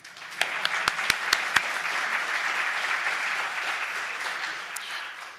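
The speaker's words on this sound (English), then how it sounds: "She deserves a round of applause." An audience at a Waterford debate applauds a woman named Mika. A few sharp, distinct claps open into a full, sustained wash of clapping that carries on evenly to the end.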